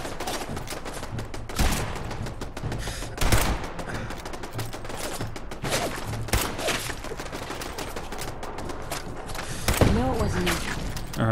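An automated turret in Fallout 4 fires in rapid, sustained bursts throughout, loud and near, with sharper impacts scattered through it. Someone talks over the shooting.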